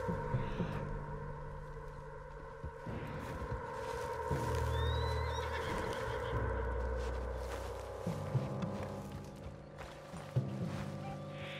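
A horse in Red Dead Redemption 2 whinnies amid low rumbling game ambience and a steady hum, with faint hoof clops in the background, all fairly quiet and without speech.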